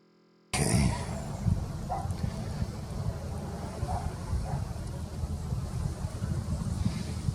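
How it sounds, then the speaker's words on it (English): Steady breeze buffeting an outdoor microphone, a continuous low rumbling wind noise that starts abruptly and holds throughout with slight gusting. "A little breeze blowing too"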